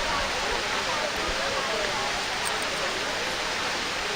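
Water splashes steadily in the Sainte-Apotine fountain in Paris, a broad, constant hiss of falling water heard up close and fairly loud with no pauses.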